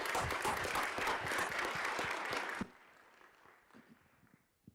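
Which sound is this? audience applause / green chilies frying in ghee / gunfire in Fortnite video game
audience applause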